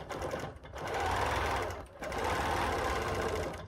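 Domestic sewing machine stitching a double wedding ring quilt, running steadily in two long bursts split by a brief pause, near and fairly loud with no talking.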